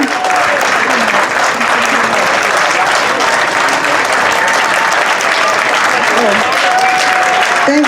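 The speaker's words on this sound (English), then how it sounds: "A round of applause for the icon." Audience applause for labor activist Dolores Huerta at a Philippine Weekend event, loud and sustained clapping from a large crowd, with scattered cheers and voices mixed in.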